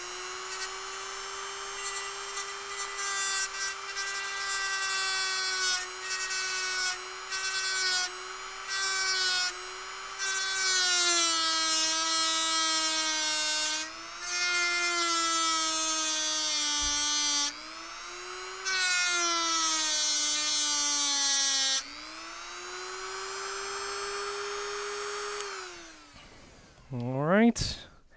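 A high-pitched Dremel rotary tool whines steadily while cutting through a screw in a MacBook Air, pitch dipping under load and cutting in and out, ending with a spin-down.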